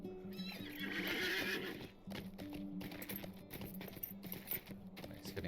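A horse in the Lord of the Rings Online video game whinnies loudly up front, followed by a steady clip-clop of hooves trotting and a faint voice underneath.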